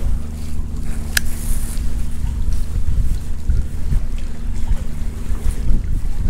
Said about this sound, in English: The wind is right in my face, which doesn't help.